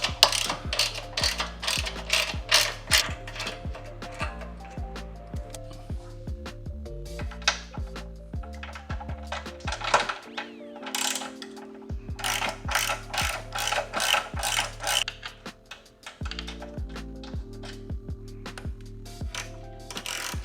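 Ratchet wrench clicking rapidly while loosening exhaust bolts on an MV Agusta F3 motorcycle, loud close bursts of metallic pawl clatter with brief pauses between turns.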